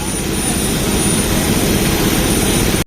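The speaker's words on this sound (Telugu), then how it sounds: "అక్కడ ఒక ఫ్లైట్ పోతుంది చూడండి." A jet airliner engine at an airport roars steadily and loudly for the whole stretch, a dense continuous rumble and hiss with no pauses or voices.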